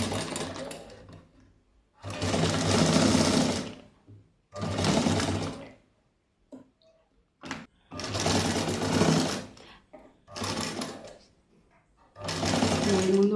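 An electric sewing machine stitches fabric in several loud, steady whirring bursts of a few seconds each, separated by brief pauses with faint handling noises.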